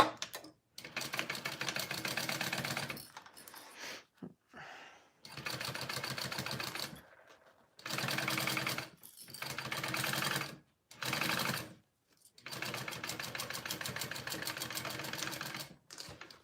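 A sewing machine stitching the seam of a small zippered pouch, running in loud, steady mechanical bursts of rapid needle clatter separated by short pauses, close at hand.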